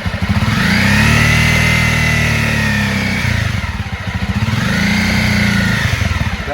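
A motorcycle engine revs hard and climbs through two quick launches, each a loud rising roar that falls away before building again, close and alone without talk.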